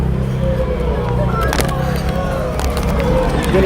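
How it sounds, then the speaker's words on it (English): A rowdy crowd at a nighttime police scene in Los Angeles: a dense, steady babble of many voices with scattered shouts, close and loud, over a low rumble of traffic and street noise. "I just heard the crowd getting rowdy."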